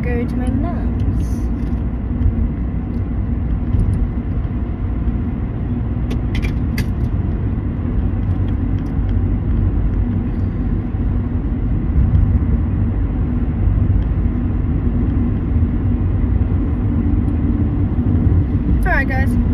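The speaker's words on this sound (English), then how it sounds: "Now to drive home, finish packing my suitcase, and then I'll go to my mom's." Steady road drone of a car being driven home, a continuous rumble and tire noise throughout, with a person talking over it at times.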